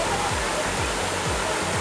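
Steady, loud rush of flowing water at Khlong Yot Nam waterfall in Nakhon Si Thammarat, a dense unbroken roar close by with no voices over it.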